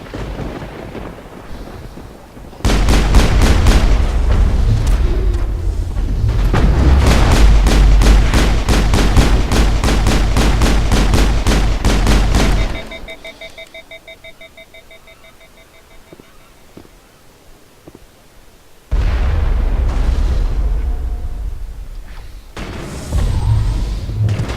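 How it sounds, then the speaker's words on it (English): Rapid bursts of heavy gunfire and booming explosions in the Mass Effect game, loud and sustained for about ten seconds. After a quieter stretch with faint electronic tones, another loud rumble of fire returns. "There must be a way to shut that gun down."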